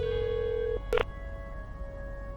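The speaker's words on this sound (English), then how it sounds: "We're getting a phone call here." A telephone rings once for an incoming call, a sustained electronic tone broken by a short burst, clear and close against a quiet room hum.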